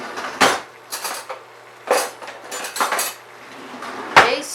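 A metal taster spoon clinking against dishes and pots in a kitchen, several sharp separate clatters and knocks spaced irregularly, close and moderately loud with no talking.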